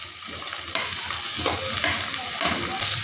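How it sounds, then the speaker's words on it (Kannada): Beans and carrots frying with onion and ginger garlic paste in a pan, a steady close sizzle with repeated stirring scrapes, no talking. "ಇದನ್ನು ಚೆನ್ನಾಗಿ ಫ್ರೈ ಮಾಡ್ಕೊಳ್ಳೋಣ"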